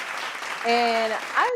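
Brief applause burst in a medical assistant's talk, clapping under a speaking voice that rises in the middle, short and close.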